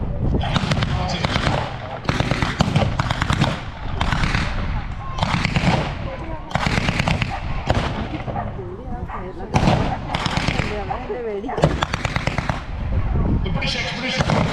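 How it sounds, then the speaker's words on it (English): Battle reenactment at Dover Castle's WW2 weekend, with repeated bursts of blank gunfire and grenade blasts in irregular volleys, loud and echoing outdoors, while a voice commentates over the noise. "Grenades thrown. There's a heavy fire going down."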